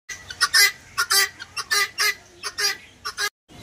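A nearby rooster gives a string of short, rhythmic clucks and squawks, about a dozen bursts with brief gaps between them.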